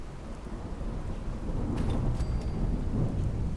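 Thunderstorm with rain in the game Fallout 4 with a weather mod: a low, rolling rumble of thunder building over steady rainfall, swelling louder midway and holding heavy to the end.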